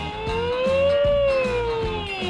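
A toy police siren wails in a rising and falling electronic tone, close and steady, with a faint rhythmic clicking underneath.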